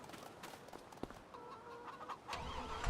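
Chickens in a farm pen in Farming Simulator 25 cluck and murmur steadily at close range, with a brief squawk near the end and no talk.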